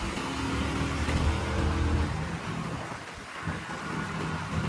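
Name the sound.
rain falling during a motorbike ride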